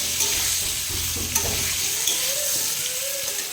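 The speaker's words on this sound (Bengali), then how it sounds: "কলাটা একটু ভাজা ভাজা করে নিয়েছি" Green banana pieces frying in a pan give a steady close sizzle broken by stirring scrapes and a couple of light knocks, with no one talking.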